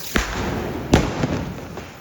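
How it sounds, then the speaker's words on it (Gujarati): Firecrackers go off during a family Diwali celebration: four sharp thumping bursts come at uneven intervals over a low background hum, moderately loud and a little distant. "ફટાકડા ફોડવા આવી ગઈ છે"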